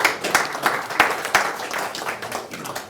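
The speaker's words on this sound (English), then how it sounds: "So, let's clap." Audience clapping after a CEO's company presentation, a lively round of applause with distinct claps standing out, steady and fairly close throughout.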